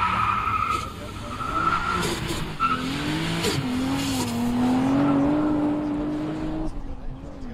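A VW Golf 3 VR6 Turbo races a VW Golf 7 GTD down a quarter-mile strip at Brilon, engines revving and tires squealing at a distance, with people talking over the noise.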